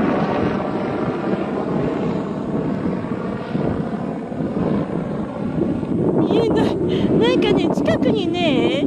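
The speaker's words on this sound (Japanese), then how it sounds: "ヘリコプターが飛んできたのよ。" A helicopter flies over a seaside park beach, its steady rotor roar blending with strong wind noise throughout, while voices talk over it.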